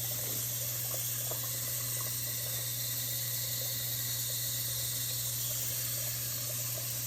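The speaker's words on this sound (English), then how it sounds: "I'm just gonna get my hose out of my faucet here and start filling it up." Water from a hose fitted to a faucet runs steadily into a container for homemade dog food, giving a continuous, fairly quiet splashing rush under a faint low hum, with no talking.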